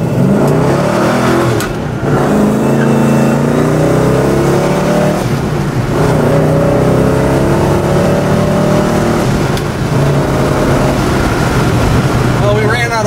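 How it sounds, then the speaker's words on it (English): A 1967 Pontiac GTO accelerates hard through the gears, loud and close from inside the car, each rising engine sweep cut by a brief dip at the shifts as it pulls up through the gears. "we'll run it through the gears a little bit for you. See what kind of pickup this GTO has."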